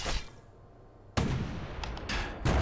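Enemy gunfire in the action RPG video game Bastion: a sharp blast followed by several rapid shots in quick succession, loud and close, with no talk.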